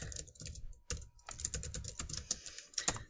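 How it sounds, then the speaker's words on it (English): Rapid, uneven typing on a computer keyboard, with close, crisp key clicks in bursts and a brief pause partway through. "I'm just going to type in"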